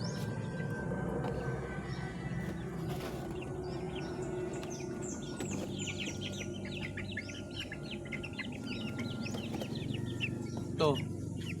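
Pet chickens and chicks cluck and peep around a backyard coop, busy overlapping chirps and soft clucks at close to middle distance over low background hum, with one louder sharp call near the end.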